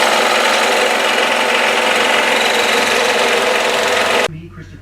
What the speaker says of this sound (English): I'm going to cut it out on a bandsaw or a scroll saw